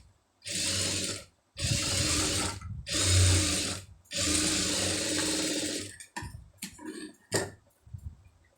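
A sewing machine stitches an Aari blouse trimmed with stones, running in four long, loud, steady bursts with short pauses, then a scatter of brief stops and starts, with no voices.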